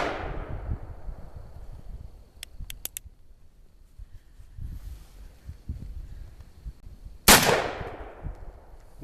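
1979 nickel-plated Colt Single Action Army revolver fired outdoors, with two sharp loud shots several seconds apart and faint clicks and handling noises between them.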